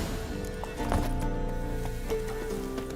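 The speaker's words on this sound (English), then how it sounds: "That's his horse. What's its name? Scorpion? Beautiful animal." Horse hooves clip-clop in The Witcher 3 game, a steady run of close, even steps over layered music and ambient game sound, with an occasional snort.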